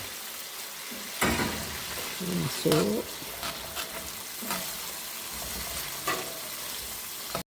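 Chicken pieces hit hot chili oil and sizzle loudly, with bursts of spattering and stirring over a steady crackle; a voice speaks briefly.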